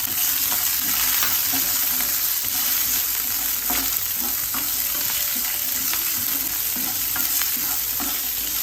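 Small sambar onions sizzle steadily in hot oil with coriander seeds in a pan on the stove for a cucumber and drumstick curry, with close, continuous frying crackle and occasional stirring scrapes; no one speaks.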